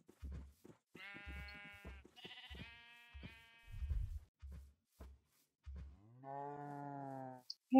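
Cows in the Minecraft video game moo in several separate drawn-out calls, with short thumping footstep sounds between them and no talking.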